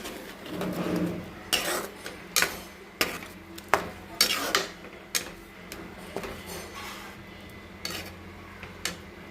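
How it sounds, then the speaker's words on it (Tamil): A spoon stirs ground masala into buttermilk curry in a pot, the metal knocking against the rim in a string of sharp, irregular clinks that come close and fairly loud. "அரைச்சி வச்சுருக்க மசாலா எடுத்து ஊற்றிக்கலாம் நல்லா கிளறி விட்டுக்கலாம்"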